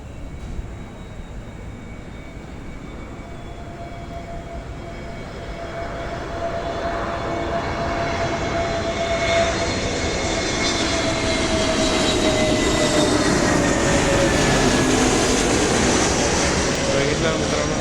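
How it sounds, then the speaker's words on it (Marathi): A plane approaching a nearby airport grows steadily louder over many seconds, its engine roar rising from a distant hum into a broad close rush. Someone speaks faintly beneath it at the start. "एअरपोर्ट जवळच आहे आणि त्यांना 5-5 तासाला प्लेन येतात"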